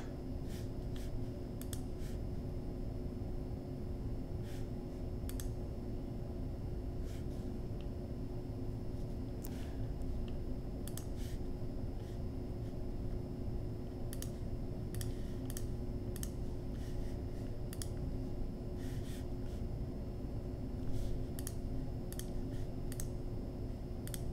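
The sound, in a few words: typing on a computer keyboard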